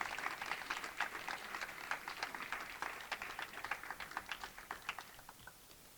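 An audience at a graduation ceremony gives a round of applause: steady, fairly faint clapping from many hands that thins toward the end, with no talking over it.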